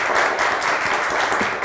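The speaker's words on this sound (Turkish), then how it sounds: "Bir avuntu alkışlayalım." Steady applause from a TV game show studio audience, dense clapping that holds at an even level for a couple of seconds.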